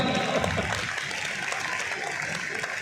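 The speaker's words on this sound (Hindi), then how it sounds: "तालियां उठाओ तो ढंग से उठाया करो।" An audience at a poetry recitation during the Khajuraho Film Festival claps together in a dense, steady burst of applause that fades slightly toward the end.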